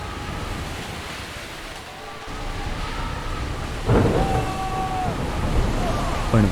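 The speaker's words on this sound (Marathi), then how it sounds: "लाटा प्रचंड उंच उठत होत्या" Huge ocean waves in a storm, a constant heavy roar of surf and wind with booming swells and a few whistling gusts, mixed with faint voices.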